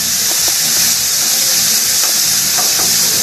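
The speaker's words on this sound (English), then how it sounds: "listen to that sizzle" Chicken frying in a pan for a Chinese dish gives off a loud, steady sizzle with a continuous hiss and a few faint stirring clicks, close up and alone.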